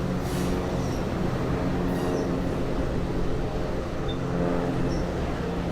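A Long Island Rail Road commuter train rumbles steadily past at crawling speed through Mastic-Shirley station at close range, a dense low mechanical roar with occasional faint squeals and clicks, no voices.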